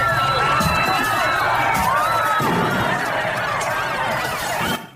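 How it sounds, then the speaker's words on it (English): A riot recorded outdoors: a dense, loud crowd roar of shouting and yelling voices, with running, cheering and scattered high cries layered throughout, steady until it cuts off abruptly at the end. "John, this is the sound of a riot"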